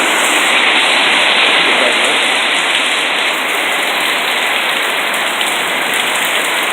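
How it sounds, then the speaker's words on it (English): Heavy rain pours down steadily and loudly on surfaces during a flash flood warning, a dense continuous roar with no pauses. "The rain is coming."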